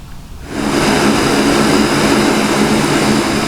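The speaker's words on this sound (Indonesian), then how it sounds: "Pesawat Super Hercules A1339 mendarat di Bandara Internasional Minangkabau, Padang." A Super Hercules A-1339 military transport aircraft lands at Minangkabau International Airport in Padang, its loud, steady propeller-engine roar rising quickly after a quiet half second and then holding close and continuous, with no talk.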